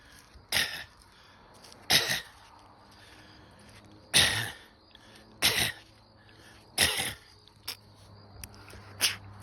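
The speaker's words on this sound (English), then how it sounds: "we're going to do some clearing of our throats with a gentle," Someone clears their throat in a series of six or seven short, gentle, almost-coughing bursts spaced a second or two apart, close and fairly clear, done as a vocal warm-up with no talking.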